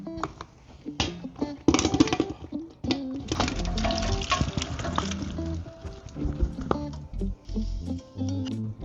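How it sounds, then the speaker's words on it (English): Tomatoes and sugar tumble into a big stock pot in a series of irregular thuds, splats and wet slides, close and fairly loud, with uneven bursts of clattering over several seconds. "now I'm gonna add all my ingredients into a big stock"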